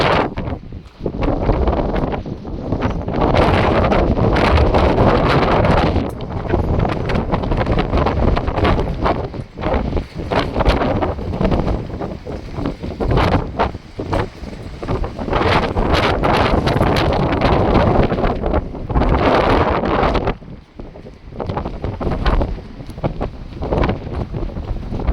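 Strong New Mexico wind gusts shaking a building, heavy rumbling buffets and rattling that surge and ease over the length, loud and close to the microphone with no talk.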